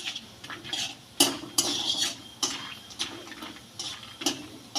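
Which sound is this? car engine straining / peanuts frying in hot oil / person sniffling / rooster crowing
peanuts frying in hot oil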